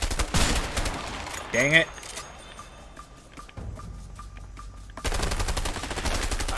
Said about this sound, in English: It's nice that I don't have to reload the sniper.